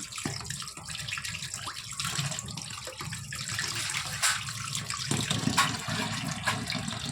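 Fish being rinsed under a running tap, water splashing steadily into a sink with shifting gurgles and handling noises throughout, close and moderately loud, with no talking.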